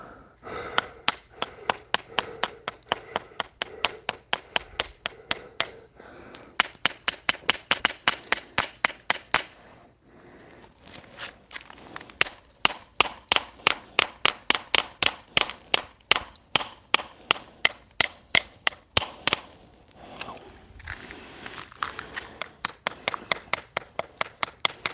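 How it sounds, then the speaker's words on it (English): A small hammer chipping at a wall, striking in fast rhythmic bursts of sharp, ringing metallic clinks, close and loud, with short pauses between runs of blows. "I think the smaller hammer is better."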